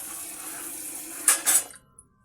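Masoor and khesari lentils rinsed in water, running water and a gentle swishing that swells into two louder splashy bursts near the end before stopping abruptly, close by in a kitchen sink.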